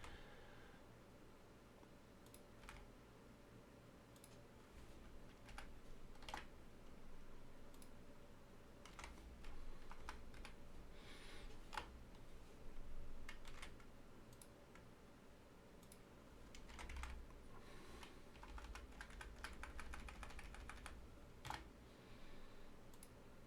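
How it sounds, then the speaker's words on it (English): Keyboard typing while building an inventory system for an Unreal Engine 5 C++ survival game: a steady run of close, light key clicks and taps in irregular bursts over a low background hum, with no talk. "Apparently I'm hitting keys I shouldn't be."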